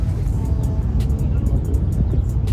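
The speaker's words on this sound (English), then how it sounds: "Bounce the rev limiter." A car engine at a car meet bounces against a two-step rev limiter, giving a loud, close, rapid stuttering drone with sharp pops and crackles, under crowd noise and voices.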